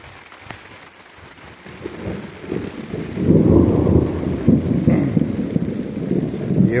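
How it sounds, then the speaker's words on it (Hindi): Rain falls steadily on a farm with thunder rumbling, quiet at first and then swelling into a loud, dense wash of rain and low rolling thunder for the last few seconds, with no one speaking. "अच्छी बारिश हो रही है, बरसात वाली फीलिंग दे रही है।"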